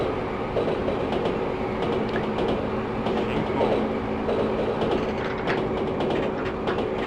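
A Japanese commuter train running on the Chuo Line in Densha de GO! Final gives a steady rumbling roar with faint rhythmic clicks and a low motor hum, continuous throughout.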